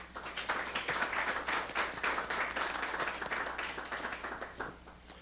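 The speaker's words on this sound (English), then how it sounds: "I think that warrants a round of applause." A room of attendees at a school board of education meeting applauding, brisk dense clapping carrying on steadily for several seconds at moderate distance, with a faint steady hum underneath.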